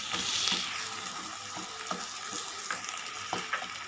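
Ground tomato and ginger garlic paste get stirred in a frying pan, a continuous hissing sizzle with repeated soft scrapes and taps of the spoon, and no voices.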